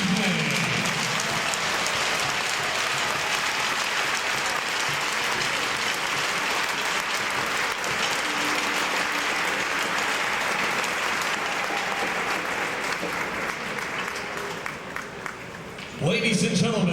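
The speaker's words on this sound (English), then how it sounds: "please give a round of applause for all of our distinguished guests and honorees this evening" A hockey arena crowd gives a long sustained round of applause for distinguished guests and honorees before a charity game, a dense roaring wash of clapping with an announcer's voice breaking in at the end.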